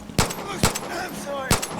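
Gunfire in the video game Far Cry 5: three sharp, loud shots spaced irregularly within about two seconds, each with a short decaying tail over faint game background sound.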